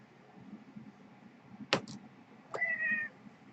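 A cat meows twice, close and fairly loud: a short sharp call followed by a longer, drawn-out meow, over a quiet indoor background.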